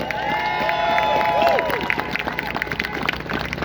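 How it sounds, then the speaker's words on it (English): A crowd at a freedom march in Toronto claps and cheers, a dense, continuous wash of applause and scattered shouts, with a tonal whine drifting over it early on before the clapping grows choppier. "So please look around yourself again and give a round of applause."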